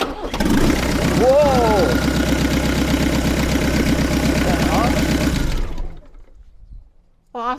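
A 2.5 VM diesel engine in a Range Rover Classic cranks, fires and runs loudly with a rapid, even clatter through an unconnected exhaust for about five seconds, then cuts out, with a short exclamation and voices around it.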